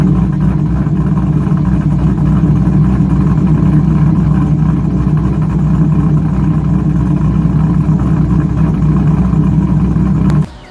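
A 700+ hp 2001 Corvette engine with 1 7/8-inch headers, a 3-inch X pipe and bullet mufflers runs with a loud, steady, deep rumble that holds for about ten seconds before cutting off abruptly.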